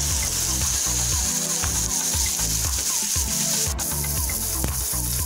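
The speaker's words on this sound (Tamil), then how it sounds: "இப்போ நல்லா எண்ணெயில் வதக்கி நம்ம மாவு சேர்த்துக்கலாம்" Onions sautéing in oil in a pan on the stove for a lentil adai batter, a loud, steady close sizzle and hiss filling the whole stretch without a break.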